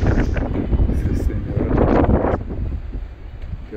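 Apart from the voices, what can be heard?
wind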